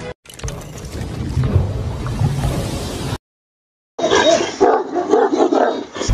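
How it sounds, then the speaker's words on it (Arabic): A large Turkish Kangal dog barks in deep, loud outbursts close by, two bursts of barking split by a short silent gap. "تعتبر كلاب الكنجال التركية من أضخم وأقوى السلالات الحديثة"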